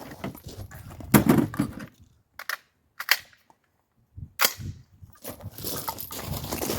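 Several sharp, loud rifle reports from an 11.5-inch short-barrel rifle firing Defender frangible .223 rounds outdoors, each a separate crack with short gaps of near silence between.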